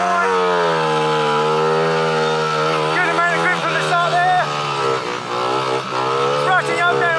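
A speedway motorcycle engine holds a high, steady whine, then rises and falls as the revs climb, loud and close throughout, with a voice talking over it.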